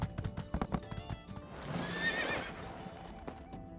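A horse in the video game My Time at Sandrock clops along with quick close hoofbeats, then lets out a clear whinnying neigh in the middle before a few more steps.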